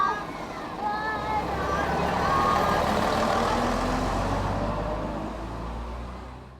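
A bus engine rumbling as it pulls away, swelling to a steady low drone mid-stretch and then slowly fading, with people talking and a faint high beeping early on.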